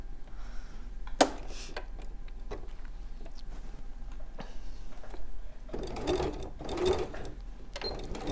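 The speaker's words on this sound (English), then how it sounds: "I'm now going to top stitch along that edge to finish it off" A sewing machine running a long top stitch along a fabric edge makes short bursts of close mechanical whirring and clicking. Quiet pauses separate the runs, and there is a louder stretch of stitching toward the end.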